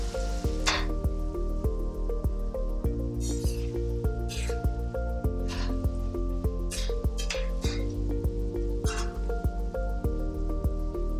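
Chicken and spices frying in oil for cumin (geera) chicken, a steady close sizzle with scattered drips and pops running throughout, with no talking.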